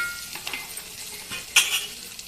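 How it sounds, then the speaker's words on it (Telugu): Chili powder frying in hot oil while being stirred for an egg pulusu curry: a soft, steady sizzle with light scraping strokes of a spoon and one sharper clink near the end, close and alone. "ఈ కారం కూడా నూనెలో గోలాలి."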